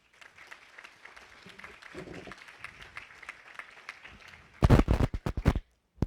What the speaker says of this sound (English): So please give yourselves a huge round of applause.